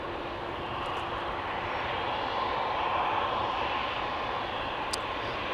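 A KLM Embraer 175 airliner at Schiphol gives a steady, broad engine roar, moderately loud and unbroken, with no talking over it.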